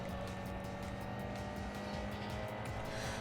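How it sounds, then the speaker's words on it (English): Fully tuned import car engine in the Import Tuner Challenge racing game, a steady, droning whine at moderate level running continuously without talk. "It has a different engine noise."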